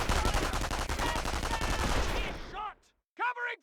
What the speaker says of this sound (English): Let's throw a grenade to destroy the machine gun team.